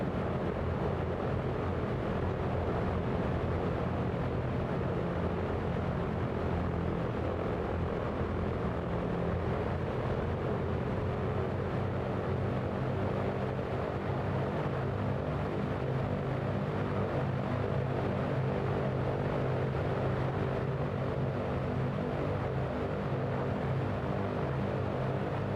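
Multiple piston engines of a Microprose B-17 bomber droning steadily in flight over the Grand Canyon in MSFS2024, a constant dense low hum with no breaks.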